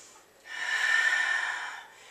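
Strong, forceful breath during a power yoga class in warrior pose, one long audible exhale rising and fading over a couple of seconds, close and fairly clear against a quiet room.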